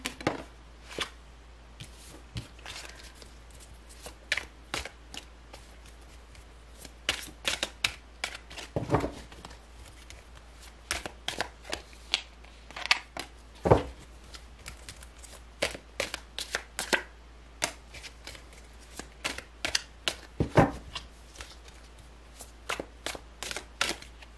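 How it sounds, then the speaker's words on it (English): Tarot cards being shuffled by hand: repeated crisp riffling and flicking bursts in uneven rhythm, close and fairly quiet, with no talking. "These cards are so hard to shuffle."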